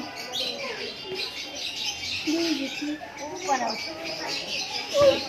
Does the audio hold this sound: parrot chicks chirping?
yes